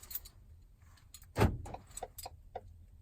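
Ford Transit van door locking, a quiet sequence of small clicks and ticks around one sharper central clunk of the lock mechanism, close and faint.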